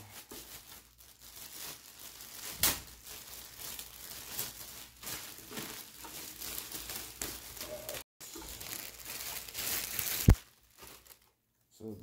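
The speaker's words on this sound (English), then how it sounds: "Try not to rip the bag." Plastic bag crinkles and rustles as it is pulled open while unboxing a Behringer VMX100 USB mixer, continuous close crumpling with a couple of sharper crackles and a brief pause near the end.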